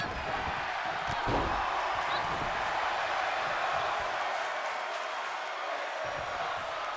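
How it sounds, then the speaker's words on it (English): Wrestling arena crowd chanting steadily at a live event, a dense sustained roar of many voices with rhythmic swells, broad and loud throughout with occasional impact thuds. "You can hear this crowd chanting, "This is awesome,""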